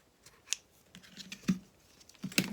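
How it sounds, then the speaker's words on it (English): Scissors snip through paper cardstock while making a stamped card, a few crisp close cuts spaced apart with light handling noise between, no voices. "grab your scissors and cut that off"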